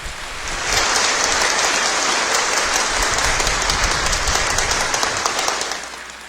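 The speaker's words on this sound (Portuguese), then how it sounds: "vamos dar uma salva de palmas para nosso Senhor Jesus Cristo" A church congregation gives a sustained round of applause in honor of Jesus Christ, a dense, even wash of clapping that swells in quickly, holds steady for several seconds and fades near the end, with no talk over it.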